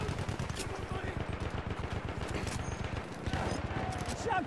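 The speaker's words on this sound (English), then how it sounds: "Enemy machine gun over there!" Enemy machine gun fire in a video game: a long, steady stream of rapid evenly spaced shots, fairly quiet and distant, continuing without pause, with voices shouting over it.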